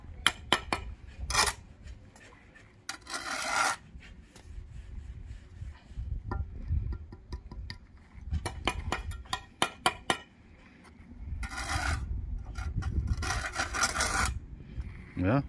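A steel trowel scrapes and slaps mortar while a brick wall is built, with close, gritty scraping strokes in irregular bursts and sharp metallic taps between them.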